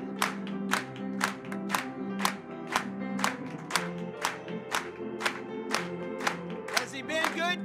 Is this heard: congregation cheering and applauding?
yes